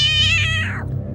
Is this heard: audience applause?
no